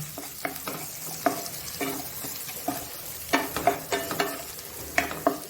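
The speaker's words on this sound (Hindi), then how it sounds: "और इसको अच्छे से हम थोड़ा सा भून लेते हैं।" Vegetables stir-fried with salt in a home kitchen pan for a Diwali Annakoot dish, heard as repeated scraping stirs over a low sizzle, close and moderately loud with no speech.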